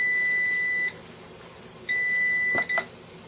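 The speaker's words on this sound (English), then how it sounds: "The air fryer is finished." Electronic beeps from an air fryer signalling that cooking is finished, in a kitchen: two sustained steady tones about a second each, separated by a pause, followed by a couple of short clicks, fairly loud and close with no talking.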